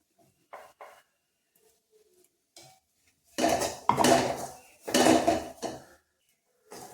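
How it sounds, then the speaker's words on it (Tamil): A utensil stirs ground curry leaf masala in a pan for tamarind curry, making a few faint scrapes and then loud, close bursts of metal-on-pan scraping and clatter in short strokes. "இந்த மசாலாவோட சேர்த்து கிண்டி விட்டுக்குவோம்"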